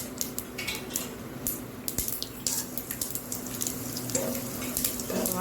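Mustard, cumin and fenugreek seeds crackle and splutter in hot oil, making a busy, close sizzle full of small irregular pops, with a few clinks of a utensil against the pan.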